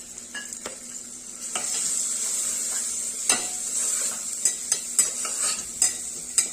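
Chilli powder, turmeric and sambar masala sauté in a pan, with a steady sizzle and sharp, irregular metal-on-pan scrapes and taps as the spices are stirred.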